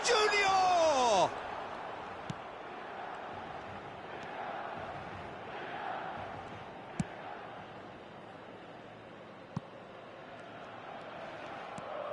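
Stadium crowd noise in the eFootball video game, a steady broad roar of supporters on match day that holds throughout, with a short burst of melodic whistle-like tones at the start and a few sharp clicks scattered over the crowd bed.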